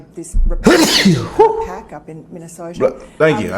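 A loud, sharp sneeze close by, followed by people speaking briefly.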